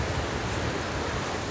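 Hot waterfall at Martvili, Georgia: a steady, loud broadband rush of falling water fills the whole moment with a constant hiss and low roar, close by, with no voices.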